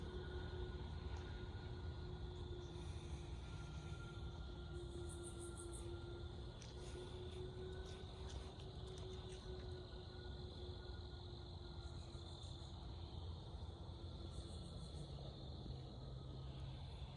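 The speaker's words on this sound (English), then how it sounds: "There's a plane in the distance, so that's what that whooshing is" Faint, distant whoosh of an airplane passing over a quiet neighborhood at night, a low steady rush with a thin hum beneath it and no voices.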